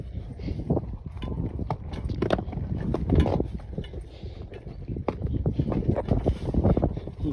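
Horse walking outdoors on a windy ride across open land, steady close clip-clopping hooves in an uneven walking rhythm, with wind buffeting the microphone and no clear talk.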